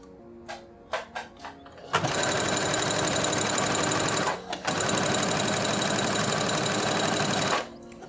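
Swimsuit strips are zigzag-stitched on a regular domestic sewing machine. A few soft handling clicks come first, then a loud, close, steady mechanical whir with a brief pause midway before it stops, with no talk.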